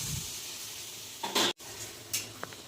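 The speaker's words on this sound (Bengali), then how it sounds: "পরিমাণ মতো জল দিয়ে দিলাম" Water poured into a pan of frying spiced soybean curry with potatoes brings a sharp hissing surge over a low, steady sizzle, followed by a couple of fainter spits.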